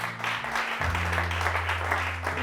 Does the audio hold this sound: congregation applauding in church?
yes